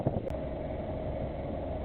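The engine of a small Snapdragon sailboat hums as a steady, low, muffled drone under wind buffeting on the microphone, fairly faint and unbroken.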